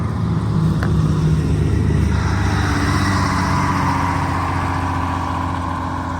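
An old bus engine idles while warming up, a steady near rumble that holds a fairly even pace throughout, with no talking.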